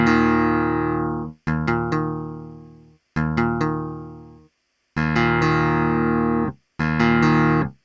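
A Clavinet V clavinet plays with its string mute engaged, giving a dampened, plucked keyboard tone: several sustained chords, each opened by a quick cluster of attacks, with gaps of silence between them.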